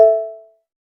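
A phone notification plays as a single bright chime that rings out clearly and fades to silence within about half a second, with nothing else around it.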